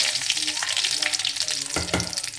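Curry leaves crackle and sizzle in hot oil as a tempering for a vegetable chutney, a steady close hiss with a couple of louder spattering bursts toward the end, no voices.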